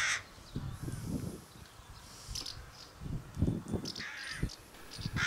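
Crows caw repeatedly in short clustered bursts at a moderate distance, over a steady rush of wind noise.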